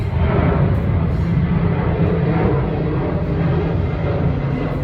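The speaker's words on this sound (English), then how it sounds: "Just waiting for the plane." A low, steady engine roar fills the clip, like an airplane passing overhead, constant and fairly loud with no voices.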